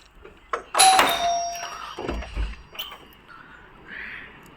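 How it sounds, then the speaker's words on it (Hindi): A home doorbell rings with a short, bright chime near the start, followed by soft rustling and handling noises in a quiet indoor room. "घर की घंटी"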